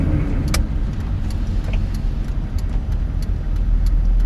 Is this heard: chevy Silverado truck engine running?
yes